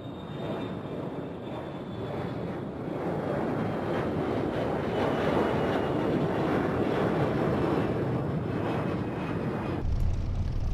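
A P-38 airplane flying across the Atlantic in a flight sim game, its engines droning steadily and loudly with a broad rushing roar that holds constant, then shifts abruptly near the end.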